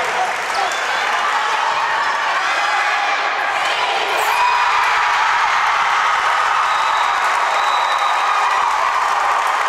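A home crowd at a women's college volleyball match in Runner Fieldhouse roars and applauds, a dense, steady wall of cheering and clapping with scattered whoops that holds loud for the whole stretch.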